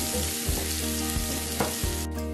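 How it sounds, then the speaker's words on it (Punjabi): Chopped garlic and ginger sizzle steadily in hot oil with toasted cumin and coriander for dal tadka, a loud, continuous frying hiss with a few soft stirring bumps, close and alone. "ਜੀਰਾ ਤੇ ਧਨੀਆ ਭੁੰਨਣ ਤੋਂ ਬਾਅਦ ਆਪਾਂ ਵਿੱਚ ਚੌਪ ਕੀਤਾ ਹੋਇਆ ਗਾਰਲਿਕ ਤੇ ਜਿੰਜਰ ਪਾ ਦਿਆਂਗੇ"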